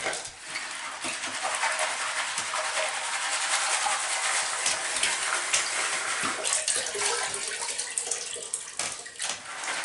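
A steady, close rush of water pouring into a tub, continuous and even throughout with no voices.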